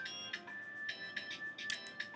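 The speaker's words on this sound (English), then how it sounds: "It's like the longest texting tone ever." A phone texting tone from across a room plays as a run of bright, repeated electronic chimes in an uneven rhythm, moderately faint and with no talking.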